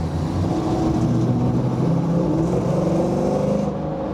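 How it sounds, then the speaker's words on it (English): An LT-swapped Pontiac Trans Am with a rough, poorly sounding exhaust revs loudly and close by, the low engine note rising and falling in a sustained drone without any talk. "somehow I made the exhaust sound even worse"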